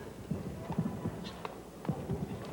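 A German-bred show jumping horse's hooves thud softly on an indoor arena surface at a World Cup competition in 's-Hertogenbosch, in a quick, irregular rhythm, muffled beats heard fairly close.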